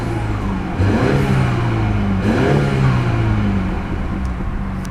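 A 2014 BMW X1 sDrive28i turbocharged four-cylinder engine revs up steadily with a rising turbo whir and a whooshing release, loud and close, no voices.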